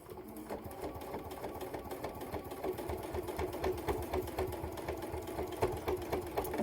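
A sewing machine stitches a fabric carry-all case in a steady, rapid needle rhythm, close and moderately loud for several seconds, without talk.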